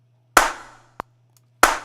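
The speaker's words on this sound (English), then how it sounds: "next thing is simple claps. No effects on it. I think we can actually add some reverb on it" Two sharp clap samples with Chromaverb reverb in a Logic X beat ring out close and loud, each tailing off in a short wash of reverb, with a tiny click between them over a low steady hum.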